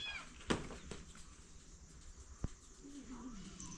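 A cat meows a few times amid background voices and household noise, with a sharp short knock partway through.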